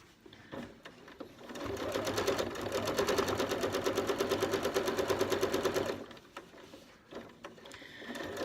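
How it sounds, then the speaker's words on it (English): A sewing machine stitches bias binding in one fast, rapid-fire run of needle strokes lasting several seconds. Brief handling noises come before and after the run, and no one speaks. "you can start sewing again where you left off, maybe just overlap a little bit"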